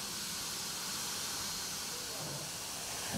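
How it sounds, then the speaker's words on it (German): Steady, loud hiss of steam venting from an old steam locomotive on the Semmering railway, a continuous broadband rush that holds evenly without pause. "Die ältesten Dampflokomotiven des Festes"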